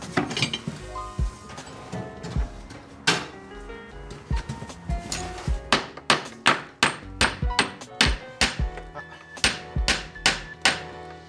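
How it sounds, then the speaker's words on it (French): A hammer taps metal again and again on a Massey Ferguson tractor during hydraulic pump replacement, close and sharp, settling into a steady rhythm of ringing strikes. "Je vais prendre un marteau."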